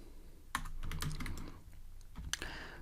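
Quick keystrokes clatter on a computer keyboard, a few sharp clicks and bursts of typing close up with no talking.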